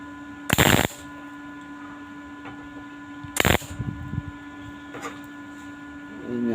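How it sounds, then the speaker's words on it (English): Spot welding on a stainless steel motorcycle tank gives two loud, short crackling bursts a few seconds apart over a steady electrical hum, followed by faint clicks and handling noise. "To give the top part of the tank a spot weld."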